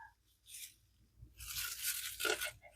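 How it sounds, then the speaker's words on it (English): Hot peppers have their stems cut off for hot sauce, giving a soft tearing crunch, then a longer crackling snap. Close and fairly quiet, with no one speaking. "We're going to cut these stems off."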